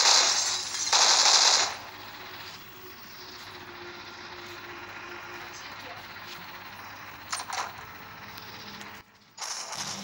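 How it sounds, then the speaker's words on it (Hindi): Nearby gunfire in the mobile battle game Hopeless Land: a loud burst of rapid automatic fire, then a quieter stretch and a few sharp shots near the end. "पास से फायरिंग आ रही है"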